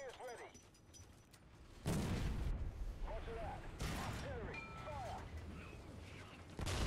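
Tank cannon blasts in War Thunder ground combat, two or three loud booming shots with rumbling tails over a constant engine and battle background, while someone talks between and over the firing.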